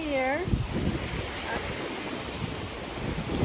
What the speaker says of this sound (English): at the beach